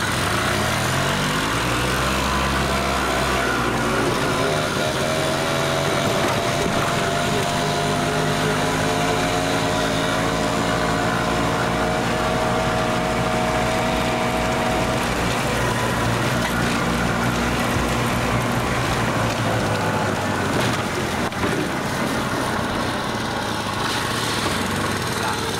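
A Batavus moped's small engine runs steadily while being ridden, its buzzing note rising and falling in pitch as it accelerates, loud and continuous throughout with wind noise over it.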